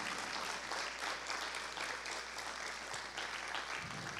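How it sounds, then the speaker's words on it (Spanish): Church congregation applauding in a steady, sustained wash of clapping, fairly faint and reverberant, with no talk over it. "¿Alguien le puede dar un aplauso fuerte al Señor?"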